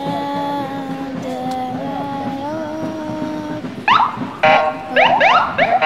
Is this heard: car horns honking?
yes